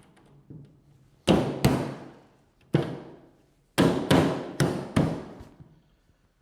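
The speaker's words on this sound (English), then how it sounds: "Place the seat front. This pops in place." Seven sharp knocks of a Chiavari chair seat front being pressed into place, sounding close and clear with silent gaps between them, the last five coming in a quicker run.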